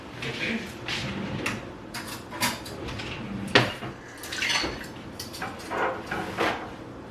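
A spoon fetched in a kitchen, with a series of clattering bursts of cutlery and dishes rattling, a drawer sliding and a louder clack midway, close by and irregular, amid faint background movement.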